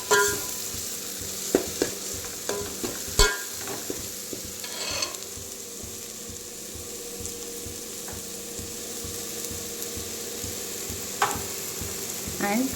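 Green leaves tomato pulao with garam masala is stirred in a pan: repeated scraping strokes and occasional sharp knocks of the spoon over a constant sizzle, with no talking.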